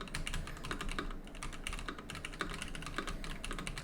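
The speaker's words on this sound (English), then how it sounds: "My super loud mechanical keyboard here." Rapid, continuous clatter of keys on a very loud mechanical keyboard, close and steady with dense overlapping strikes and no voices.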